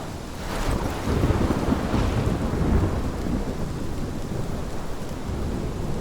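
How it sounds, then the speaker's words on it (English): A thunderstorm with heavy rain pouring steadily and deep thunder rumbling through it, dense and continuous with a roaring wash of wind and no voices. "This is my storm."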